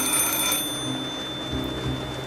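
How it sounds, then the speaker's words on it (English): An old telephone in a lone booth in a deserted, rainy city in the game Snowbreak rings with a bright electronic bell, loudest at the start then continuing faintly over a low steady background. "sound of the rain was unable to conceal the ringing phone"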